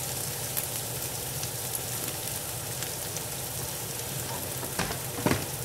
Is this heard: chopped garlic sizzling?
yes